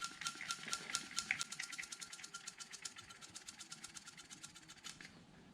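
A hand vacuum pump draws vacuum on a valve seal of a forged 4.6 engine cylinder head fitted with Comp Cams valve springs, giving a quick, steady run of close, crisp pumping clicks that slow slightly toward the end, with no talk.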